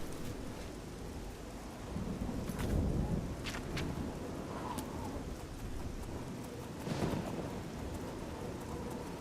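Steady rain pours in the video game Oblivion while thunder rumbles and cracks at intervals, a full thunderstorm at moderate level with no talk.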